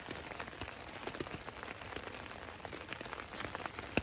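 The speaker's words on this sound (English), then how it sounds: "Yeah, it's rain." Steady rain falls at a campsite on the Appalachian Trail, a dense, even patter of drops on nearby surfaces with no voices.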